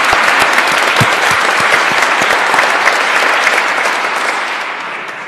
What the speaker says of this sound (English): So to all of you, applause.